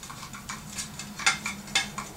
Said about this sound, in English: So I'm unscrewing the handle here, or attempting to.